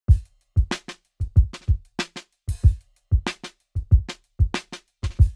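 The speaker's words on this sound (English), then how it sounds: "All right, so we have our drum pattern and it sounds like this." A programmed drum beat repeats in a tight, regular loop of punchy kicks and crisp snare and hat hits, dry and up close.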